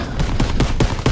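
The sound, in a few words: fireworks going off nearby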